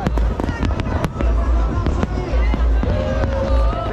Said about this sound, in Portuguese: Tá que estoura fogos aí